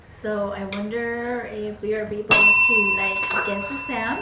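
A bell rung once, loud and ringing with a bright sustained tone that decays slowly, set between stretches of people talking.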